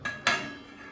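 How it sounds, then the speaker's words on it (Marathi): A metal lid set half on a cooking pot of dal makes two quick clinks, a light tap and then a louder ringing clang that fades out over a quiet kitchen. "आता ना अर्ध ढाकण टाकू आपण"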